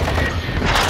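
A Call of Duty: Modern Warfare 2 explosion in a multiplayer hardpoint match, a loud, dense, sustained booming roar with rumbling debris filling the whole moment, no voices over it.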